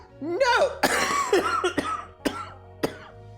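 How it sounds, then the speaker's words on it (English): A man coughs several times in harsh, close bursts mixed with throat clearing and strained vocal sounds. "you're bringing my cough back"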